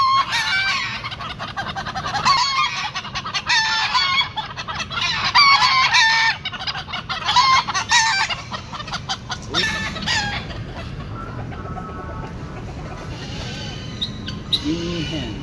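Chickens, roosters and guinea hens in the Philippines, loud and close, with dense overlapping clucking and repeated crowing that thins out in the later part of the clip.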